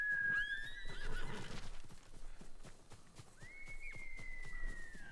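A horse in Ghost of Tsushima lets out two loud whinnies, a long high neigh at the start and another near the end, over faint hoof clip-clop and soft game ambience.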